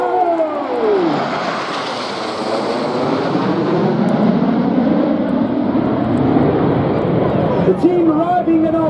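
Aerobatic display team jets arriving overhead in a nine-aircraft diamond formation at an air festival, a loud roaring rush that swells and sustains, with a commentator talking over the noise.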